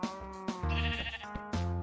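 A Minecraft sheep bleats in short wavering calls, three or four quick bleats in a row, close and clear with no talking.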